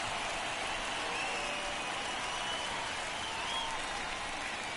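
A raucous baseball crowd roars at Candlestick Park in a video game playoff matchup, Pirates at Giants, as a steady, dense wash of cheering and clapping holds at an even level throughout.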